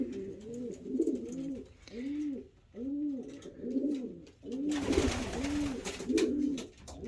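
Pigeons in a racing loft coo steadily in repeated rounded, throaty phrases, close and moderately loud, joined by a burst of broadband rustle or flutter midway.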